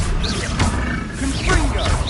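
A troll in the Hogwarts video game roars twice, deep and loud, layered with other game effects and music, with voices talking in between.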